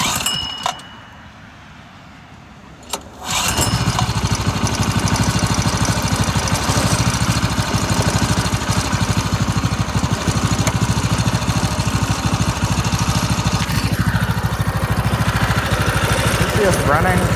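A custom minibike's small engine cranks briefly, then starts and runs steadily at a loud, constant idle-like drone that holds for most of the clip, with a few clinking metallic sounds early on.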